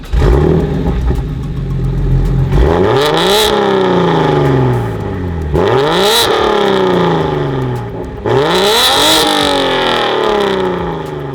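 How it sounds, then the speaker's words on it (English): A BMW 335i with a single turbo and fresh exhaust revs hard three times: each rise sweeps up and drops back to a rumbling idle. The sound is loud and close, with no voices. "Now that we got that fresh exhaust and a single turbo on there, let's see how it sounds"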